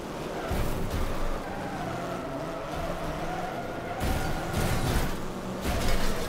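Racing cars in a video game at Ringwood Raceway, including a Jaguar and a Granada Mk2 saloon, with a steady engine drone and tyre noise running throughout at moderate loudness, swelling near the end.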